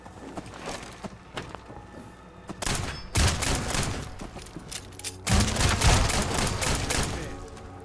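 Gunfire in a video game: scattered shots at first, then two loud stretches of heavy, sustained firing with overlapping bursts and clatter, close and dense.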